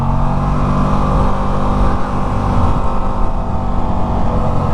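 A 2024 Aprilia RS660 Tribute sport motorcycle accelerating on the road, a loud continuous engine roar mixed with heavy wind rush, sustained and close with no talking.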